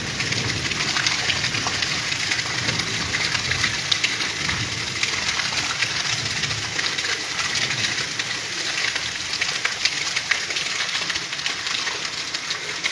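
Rain easing off after a heavy downpour keeps up a close, even wash of hiss and splatter, with a faint low rumble beneath and no voices.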